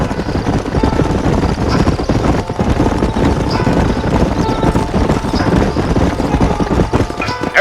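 Horses' hooves clip-clop steadily in the Western video game Red Dead Redemption, several riders moving together in a continuous loud rhythm over a low rumble.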